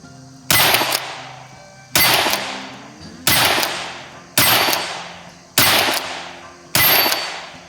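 A Henry pump-action .22 Magnum rifle fires six sharp, loud shots at steady intervals of roughly a second, each followed by a short decaying ring, with no talking.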